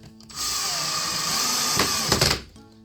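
A power drill runs steadily for about two seconds, driving small screws into the locking-side bracket of a Safetots automatic folding retractable safety gate, with a few brief louder bursts near the end.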